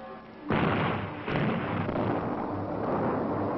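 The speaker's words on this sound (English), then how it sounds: "After each explosion," Dynamite blasts in the rock walls of a canyon during the building of Hoover Dam, two sudden loud booms about a second apart, each rolling on into a long rumbling echo.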